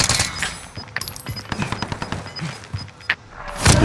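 Rapid automatic gunfire in a battle royale video game, sharp bursts of shots crackling in quick succession with a louder blast near the end.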